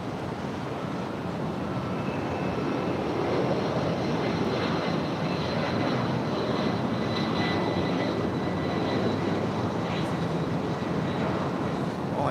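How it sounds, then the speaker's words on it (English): A UPS Boeing 757 jet departs LAX, its engines a broad, continuous roar that holds steady and loud throughout, with a faint whine riding on top and no voices. "That was the UPS 757 departing to Ontario."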